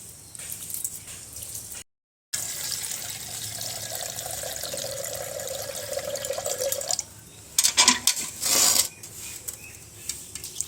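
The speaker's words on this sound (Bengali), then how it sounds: "চালের মধ্যে চালটা ধুয়ে নেবো।" Rice being washed by hand in a pot of water in a home kitchen, with a soft steady swishing and trickling, then a brighter splashing and clattering of water and utensils near the end.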